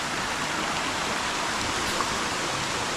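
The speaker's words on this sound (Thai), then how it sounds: "ตอนนี้นะฝนตกเลย" Steady rain pours down outdoors in dark, overcast, windless weather, a dense continuous hiss that stays loud and even throughout with no voices.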